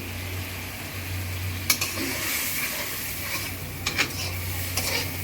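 Hilsa fish head frying with chopped garlic, onion and green chilli, a steady close sizzle with a few sharp clicks of a stirring spoon against the pan.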